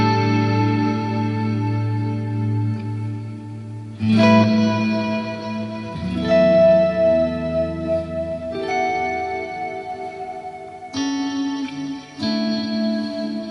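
Sustained, swelling guitar chords through a multi-tap delay with long, layered echoes that smear each chord into the next, changing every couple of seconds with no talking.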